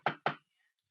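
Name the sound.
elderly caller knocking on the phone to answer yes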